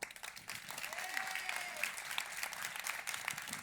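A room of people at a political event before the Iowa caucus applauds in a sustained, even wash of clapping, distant and moderately soft, with a few voices faintly audible.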